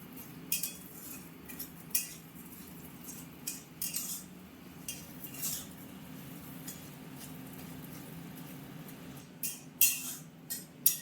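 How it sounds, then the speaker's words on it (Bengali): A spatula clinks and scrapes against a pot as rice is stirred and fried in ghee and oil. The sharp metallic taps come irregularly over a quiet low hum, with no talking. "চালগুলো এবার ঘি আর মানে এটার মধ্যে ঘি আর তেলের মধ্যে ভালো করে ভেজে নেব।"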